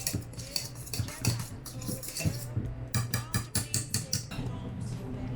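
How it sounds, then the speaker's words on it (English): A utensil stirs and scrapes around a bowl, mixing a sour cream dip with salt and black pepper, with steady close clinks and scrapes in a continuous rhythm. "You want to just mix that."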